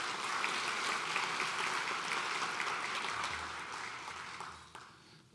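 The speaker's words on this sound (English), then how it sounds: "Let's give all of these winners a round of applause." An audience at a 2025 lecture event applauds award winners: a broad wash of clapping from a sizable crowd, fairly distant, holding steady and then tapering off near the end.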